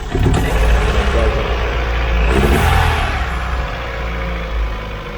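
A Daewoo Nexia engine just after an overhaul runs rough and uneven, its loud rumble surging and sagging without settling, close to the microphone for the whole stretch.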